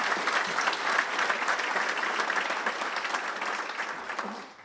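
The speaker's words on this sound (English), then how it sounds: "Let's give them a round of applause" Lecture-series audience applauding steadily for several seconds, a dense even wash of many hands clapping that fades out near the end.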